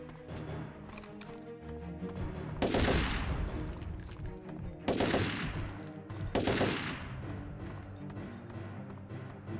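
Assault rifle fire in the Turok 3 video game, heard as three loud bursts of gunfire standing out over a busy game soundscape with music and effects.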